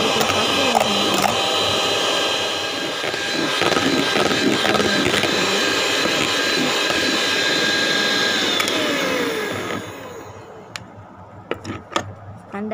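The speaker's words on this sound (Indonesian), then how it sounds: "Kita mixer sampai betul-betul kaku ya teman-teman." An electric hand mixer whips egg whites until stiff for an agar pudding, a loud steady whir that runs almost unbroken, then cuts out near the end, leaving a few faint clicks and knocks.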